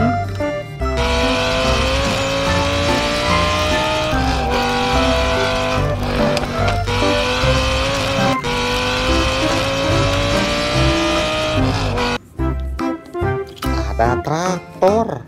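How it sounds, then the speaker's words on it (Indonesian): A yellow supercar engine drones steadily under backing music, then brief tire squeals and sweeping skids break out near the end. "Ada supercar berwarna kuning."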